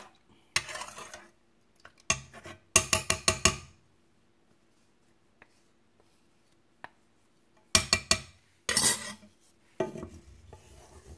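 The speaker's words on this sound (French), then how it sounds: "Donc on mélange bien." Homemade liquid hand soap mixture being stirred in a container, bursts of rapid scraping and rubbing strokes with a few clinks, separated by quiet pauses, no talking.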